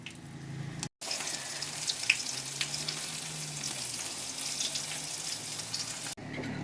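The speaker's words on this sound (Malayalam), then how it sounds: "നമ്മൾ എണ്ണ നല്ല ചൂടായിട്ട് കിടപ്പുണ്ട് നമ്മൾ അതിനകത്തേക്ക് ഈ ഉണക്കമീൻ അങ്ങോട്ട് ഇടാം" Dried fish, rubbed with pepper powder, frying in very hot oil for a home lunch: a loud, steady broadband sizzle that fills the clip between brief cuts, with no talk.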